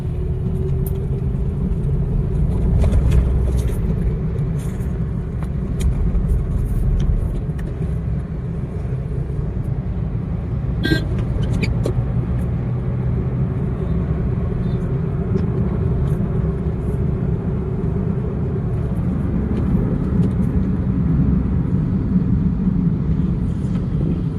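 Steady low road rumble of a CNG-fuelled car driving along the road toward Talegaon from the Nigdi road side, a continuous engine and tyre drone heard from inside the cabin with no talk over it.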